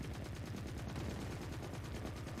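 Tank gunfire in The Forever Winter video game, a rapid, continuous stream of heavy shots in steady rhythm, dense and even, with a booming low end heard from a moderate distance.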